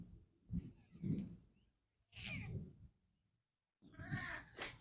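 A house cat named Bane, kept indoors and wanting to go outside, lets out three separate vocal bursts, each with a pause before the next, close to the listener in a quiet room.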